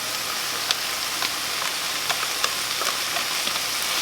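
Beef and poblano pepper mixture frying in a pan for a tamale pie as corn goes in, giving a steady, close sizzle with scattered faint crackles and pops throughout, no voices.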